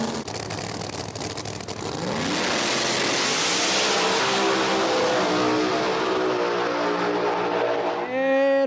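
Two drag cars, the Pro Charge Lumina and Murder Nova, race off at a no prep drag strip in Brainerd, Minnesota, building into a loud, rising engine roar that holds steady before the engines let off and the tone drops near the end.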